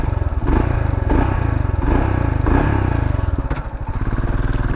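A Royal Enfield Scram 440 motorcycle engine and exhaust thump at a close, loud idle with a deep, rhythmic pulse that swells in a few brief revs, and no one speaks over it.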